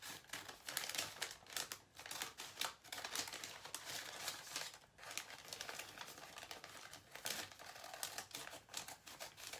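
A paper bag for a Thanksgiving turkey being cut in half down the middle, a steady run of close, crisp snipping and crinkling paper with short pauses.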